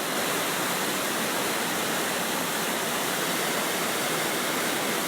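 Düden Waterfall in Turkey, heard from its base, roars in a steady, dense rush of broadband noise, unbroken from start to finish, with no voices.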